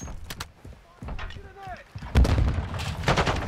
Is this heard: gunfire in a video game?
yes